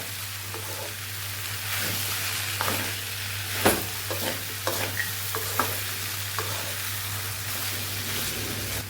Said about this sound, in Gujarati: આવી રીતે ઉપર નીચે ઉપર નીચે કરતું રહેવાનું અને ખમણને પકાવી લેવાનું છે